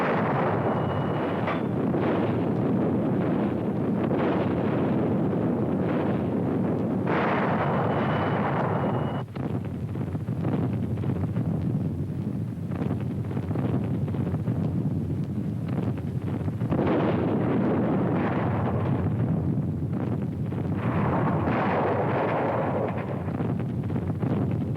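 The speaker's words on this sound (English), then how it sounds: "The naval bombardment continues." Naval bombardment off the Normandy coast on D-Day at daybreak, heard as a continuous loud, rumbling roar of heavy guns with dense low booms and wind-like blast, sustained throughout without talk.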